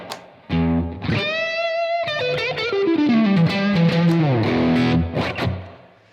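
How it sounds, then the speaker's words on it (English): Electric guitar with plate reverb through a Blackstar AMPED 1 100-watt power pedal, a set of ringing distorted chords and sliding notes with a lush, ambient tail, played alone and loud. "I'm going to go for plate because it gives me a lot more ambience."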